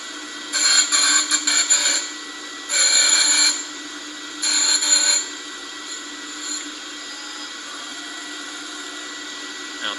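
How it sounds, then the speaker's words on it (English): Surface grinder performing a quick wheel dress, with three bursts of hissy abrasive grinding spaced a couple of seconds apart over a steady machine hum, then the hum continuing alone. "Now it's doing a quick dress, and then it'll go back in and finish grind."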